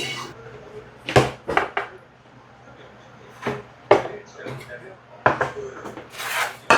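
Fried rice is stir-fried in a wok at an old Chinese restaurant, with intermittent scraping and clattering strokes of the spatula against the metal, irregular bursts separated by quieter sizzling, under low kitchen background noise.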